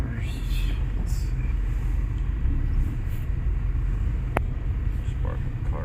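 A 2000 Mazda 626 with a 2.0L engine and a transmission pressure control solenoid fault, reversing: a steady low engine rumble continues throughout, with a few faint clicks.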